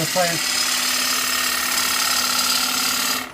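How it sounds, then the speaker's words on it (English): A wood gouge cuts a natural-edge bowl on a lathe, giving a steady, loud whirring scrape that runs unbroken for about three seconds. "got to try and move the gouge now to give yourself the bowl kind of shape"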